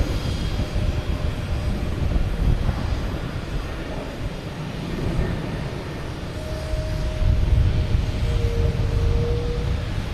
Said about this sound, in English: We have Alaska Airlines heading up to Seattle.